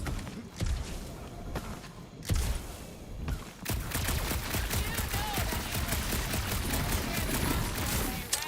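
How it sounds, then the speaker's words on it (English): Sustained gunfire in the Guardians of the Galaxy video game, with dense rapid bursts of shots, heavy thumps and a steady barrage throughout, fairly close and loud. "that shooting's not aimless"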